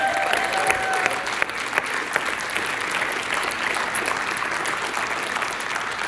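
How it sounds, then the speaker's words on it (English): A gathered audience at an evening community event claps for a man called to the front, a sustained, dense round of applause with a few sharper claps standing out, no talk over it. "Give him a round of applause"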